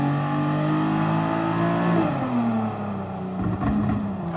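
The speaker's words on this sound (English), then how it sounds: "Oh, listen to that exhaust." A race car engine in the video game GT Sport on PS4 drones and revs with a steady harmonic whine that shifts pitch midway, loud and continuous, with no voices.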